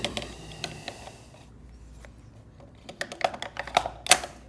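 A professional cinema camera clicks into its handheld rig mount from the back, heard as a quick burst of sharp, close mechanical clicks and ticks toward the end after a quieter stretch.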